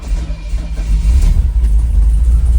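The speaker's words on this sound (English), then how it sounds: "let's see if this car starts when it's cold" A Mercedes R107 with neglected coolant starts on a cold morning, its engine settling into a low, loud, steady rumble with an uneven idle at low revs, heard close up with no talking.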